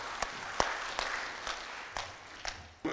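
An audience at a speaking event gives scattered, sparse claps, a handful of distinct hand claps spaced irregularly, quiet and somewhat distant.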